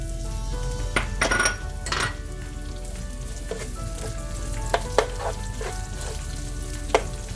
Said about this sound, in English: As my onions are sauteing on this stove